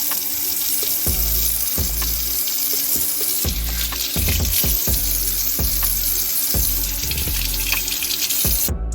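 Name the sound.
washing cucumbers and tomatoes under running water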